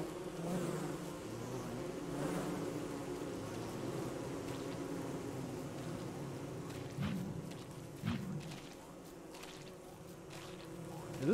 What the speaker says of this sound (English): kill all of those bees